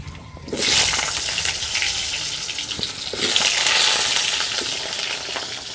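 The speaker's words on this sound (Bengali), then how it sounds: "এবারে আলুগুলো দিয়ে দেব" Potatoes dropped into hot oil with a bay leaf, dried chilli and black cumin, cooked over a wood fire, give a loud, steady broadband sizzle that swells twice as they land and keeps hissing alone.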